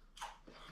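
Chewing on fried crispy cuttlefish tentacles, a close bite with a crunch followed by a softer chewing sound, heard alone without talk.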